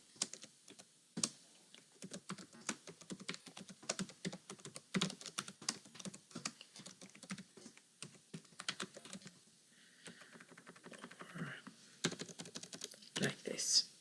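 A computer keyboard clatters as someone types a Python comment, with irregular bursts of quick key clicks, brief pauses, and a few louder taps near the end, close and fairly quiet.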